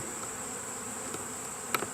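A bee swarm piled on the ground and at a hive entrance hums in a steady, close buzz, broken by a couple of brief knocks near the end.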